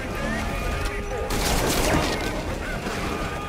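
A gunshot in Metal Gear Solid V: Ground Zeroes cracks out loudly partway through, over constant game noise and a talking voice.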